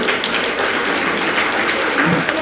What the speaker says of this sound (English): Give a thunder of applause for the winners.